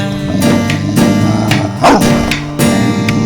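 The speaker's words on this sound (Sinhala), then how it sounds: "ඇයි මේ බල්ලා මේ තරම් නපුරු ආකාරයෙන් මිනිසුන් බියවද්දමින් කෑ ගහන්නේ" A dog barks fiercely in a Wesak thorana narration of the Maha Kanha Jataka, loud repeated barks in an uneven series of about six bursts over a droning background.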